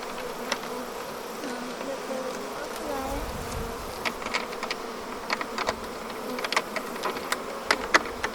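Honey bees drone steadily at close range at a hive, a continuous buzzing hum broken by scattered small clicks and taps.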